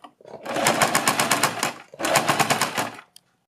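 Two close bursts of a sewing machine stitching along the neckline of a suit or kurti, fast needle rattle running about a second and a half each with a brief stop between and silence at the end.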